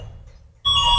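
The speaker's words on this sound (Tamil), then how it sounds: "இது ஃபர்ஸ்ட் அலாரம்" A Yadea electric scooter's anti-theft alarm suddenly starts after a quiet moment, a loud steady electronic tone that continues to the end.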